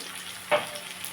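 A steady pan sizzle from fried vegetables jumps into one short, louder hiss as cumin, chilli and turmeric powders drop into hot oil, then settles back.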